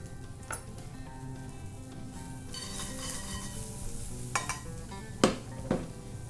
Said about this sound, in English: We're gonna let these onions slightly brown.